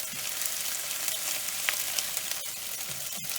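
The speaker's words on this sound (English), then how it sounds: "I will add in the ginger garlic and green chili paste. Give it a mix for almost 30 seconds to 45 seconds" Ginger, garlic and green chili paste fries in a pan with a constant, fairly quiet sizzle, broken by a few brief scrapes of a spoon as it is stirred, with no voices.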